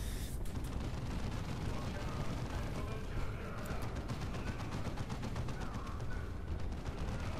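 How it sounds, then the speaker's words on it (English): Artillery bombardment in the video game Dawn of War II: Chaos Rising: dense, rapid bursts of explosions and gunfire rumble continuously, while a voice talks over the battle. "they're getting bombarded again"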